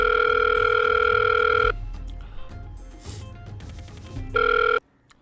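A telephone ringback tone sounds in steady electronic bursts, with a pause of faint background noise between them; no one speaks.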